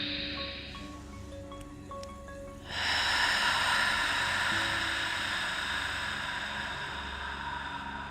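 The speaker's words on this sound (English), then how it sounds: "Let's take a deep breath together" A single long, deep breath drawn in slowly and released, close and soft, with a faint hum beneath it and no talking.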